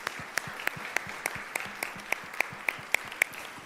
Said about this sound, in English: how about a round of applause for this beautiful new official home for the Columbus Metropolitan Club